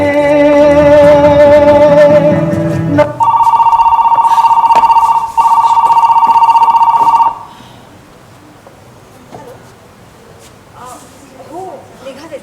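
An old-style telephone bell rings loudly and continuously in a stage play, a steady electronic trill lasting about four seconds after some music, broken by short gaps before it stops and quiet room sound follows.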